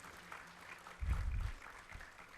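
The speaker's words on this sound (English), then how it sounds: "A big round of applause for Dr. H.S. Satish, please." An audience applauds a guest being welcomed onto the dais at a medical education event, a brief, faint burst of clapping that swells and fades within about half a second.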